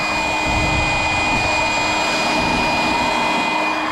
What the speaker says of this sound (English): I've never let this pump run this long